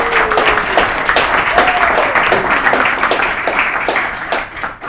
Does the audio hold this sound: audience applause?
yes